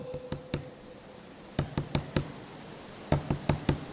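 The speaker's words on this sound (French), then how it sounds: "Il tape sur la porte" Knuckles rap on a door in three sharp groups of knocks: two first, then four, then four more, each group separated by a pause. The knocks are close and crisp, with no voices.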